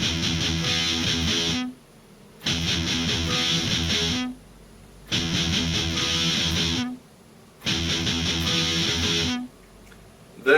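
Distorted electric guitar slowly plays a riff, opening with four sixteenth notes on low E and then chords. Four loud, thick chugging bursts are separated by short silent gaps, with no voice.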